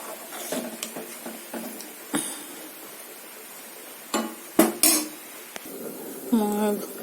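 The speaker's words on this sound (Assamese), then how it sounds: "মই এতিয়া এইখিনি ঢাকন দি পেলাই উতলিবলৈ দিম" Metal pots, a lid and utensils clatter in a home kitchen while egg curry is cooked, with scattered sharp clinks and knocks, a few louder bangs near the end, and faint talk in the background.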